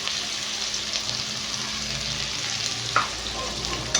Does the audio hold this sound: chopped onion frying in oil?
yes